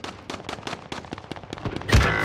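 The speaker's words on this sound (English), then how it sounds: "Oh! I got sniped." Gunfire in the video game Warzone, a run of sharp shots peppering the clip with a louder, heavier sniper rifle blast near the end, no talking.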